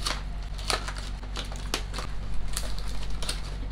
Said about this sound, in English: I'm gonna take this with some scissors.